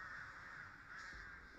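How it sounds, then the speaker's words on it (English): Crows caw in the video game Dead by Daylight, a faint, raspy cawing that persists through the short stretch with no talk over it. "there's some birds following me right now"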